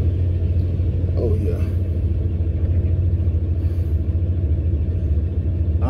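A car engine runs steadily with a low, continuous rumble while the vehicle backs out of a garage, with someone talking briefly over it.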